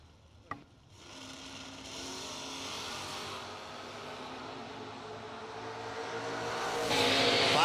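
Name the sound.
drag racing cars accelerating at bracket race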